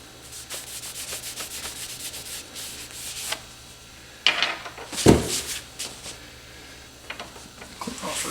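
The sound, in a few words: wiping a table with a rag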